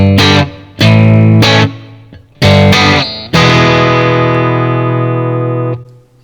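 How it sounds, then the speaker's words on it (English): Electric guitar played through a Marshall Lee distortion amp channel: loud, saturated chords struck in short bursts, then a final chord left to ring and fade with sustained distorted overtones, no voice present. "Jumping over to the Distortion Marshall Lee channel, we'll do the same thing."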